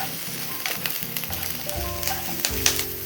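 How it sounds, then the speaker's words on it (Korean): Onions and carrots sizzle loudly in a hot pan with a pinch of salt, the crackling frying noise steady and close. Scattered scrapes and clinks from stirring break through the sizzle, and no one speaks. "양파랑 당근을 먼저 볶아내겠습니다"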